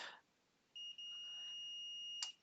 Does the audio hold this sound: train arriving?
no